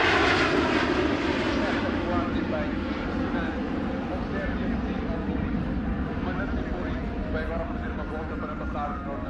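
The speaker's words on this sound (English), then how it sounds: "This Airbus A340 doing a very steep takeoff at an airshow in Portugal." An Airbus A340 airliner's engines roar steadily and loudly during a steep airshow takeoff in Portugal, a broad continuous rumble with a whining edge that fades only slightly toward the end.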